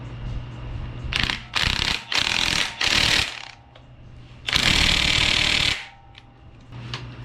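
An impact wrench runs a harmonic balancer bolt home on a 6.0 engine in a workshop. It gives three short loud rattling bursts, then a longer hammering burst after a pause, close up and with no talk.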